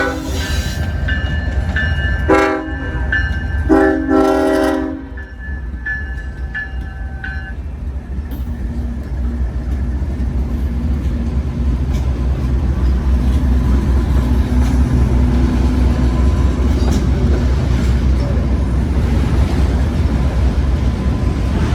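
A two-mile-long CSX grain train climbs a hill, its locomotives roaring loudly and steadily at close range. The horn sounds in several short blasts near the start, then the heavy rumble of the engines and rolling wagons continues unbroken.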